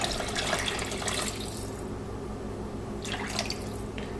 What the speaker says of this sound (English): And add 2 cups of or 3 cups of water.